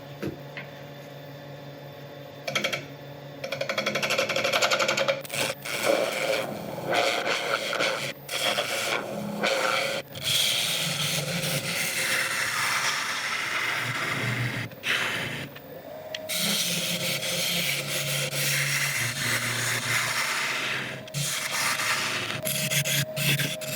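Wood spinning on a lathe at about 800 RPM while a sharpened tool cuts it, giving a steady, continuous scraping and rubbing rasp with brief pauses, close and fairly loud, with no talking.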